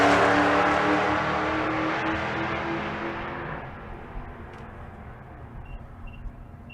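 A Cadillac CTS-V and a 1998 Camaro accelerate hard down the drag strip at Bandimere, a loud, roaring engine note that fades steadily into the distance over several seconds.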